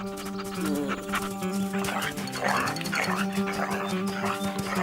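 Several hunting dogs bark in quick, overlapping bursts over a continuous musical background, fairly loud and close.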